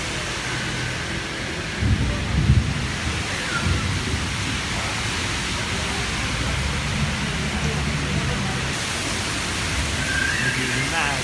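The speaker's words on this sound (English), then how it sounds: "it's raining crazily. Everyone is waiting for the rain to stop so we can go home." Heavy rain pours at the Kankakee train station in Singapore, a dense, loud, continuous roar with a low rumble swelling near the start; voices murmur faintly under the downpour.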